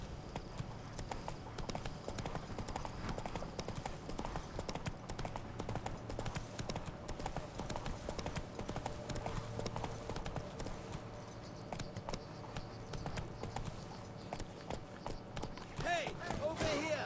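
Horse hooves clip-clop in a steady, galloping rhythm in The Witcher 3, continuous and close, while voices talk over the hoofbeats.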